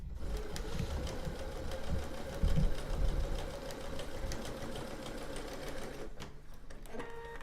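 A Quilt Ambition 635 sewing machine runs smoothly in a steady mechanical whir with rapid needle ticking, close and continuous before stopping near the end.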